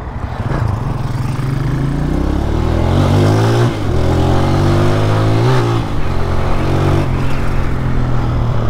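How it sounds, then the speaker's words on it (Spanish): A motorcycle engine, a custom bike called the Garza 2.0, revs loudly and close up, its pitch climbing and dropping through several throttle blips with no talk over it. "Qué linda esta moto, mae."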